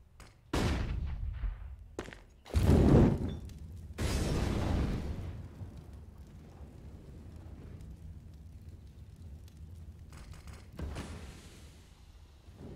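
Grenade blasts and bursts of gunfire from a Counter-Strike match on the Inferno map, heavy booms early on followed by scattered distant shots and a rumbling tail, with no talk over them.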